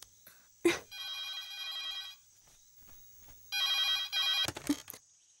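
A telephone rings in two separate bursts of bright, warbling rings, each preceded by a soft knock or handling thud, with quiet gaps between.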